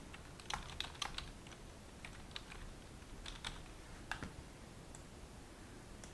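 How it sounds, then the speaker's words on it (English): Quiet, uneven keystrokes clatter on a computer keyboard, a soft run of clicks in small bursts with brief pauses between them, faint and close. "we type in the name of our channel"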